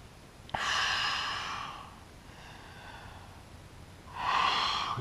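Deep, audible breaths come during a total-body stretching exercise: a long exhale, a softer quieter breath, then another strong exhale, close and alone without talk.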